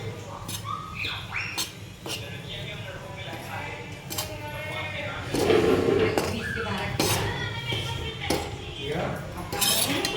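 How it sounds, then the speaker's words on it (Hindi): Dry ginger powder being roasted in a pan at home while a spoon stirs and scrapes against the metal, giving repeated clinks and scraping strokes, with someone speaking over the cooking. "इसको अब हम गोल्डन ब्राउन होने तक भूनेंगे इसी तरीके से।"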